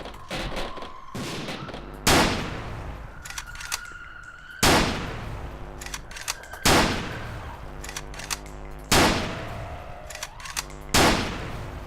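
Gunfire from a gun in the video game Stranded rings out as sharp, heavy shots spaced every couple of seconds, each with a booming tail, amid quieter game sounds and faint tones.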